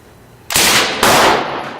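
An AK rifle fires full auto at an indoor shooting range: two loud, close bursts of rapid gunfire in quick succession, each about half a second long, with no talk.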